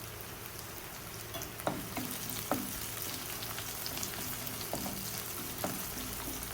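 Minced garlic stir-frying in a pan for a spinach curry, a soft, steady crackling sizzle with a few sharp clinks of the spatula against the pan, fairly quiet, with no talking.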